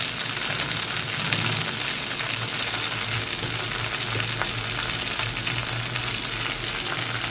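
Food fries in a pan after a sprinkle of ghee, producing a dense, even crackling sizzle like light rain that is close and steady throughout, with no talk.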